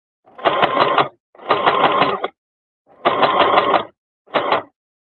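A sewing machine runs backward over pre-quilted fabric in four separate bursts of steady, close mechanical whirring, with short pauses between runs and no voices.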